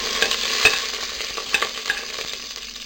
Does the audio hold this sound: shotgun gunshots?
no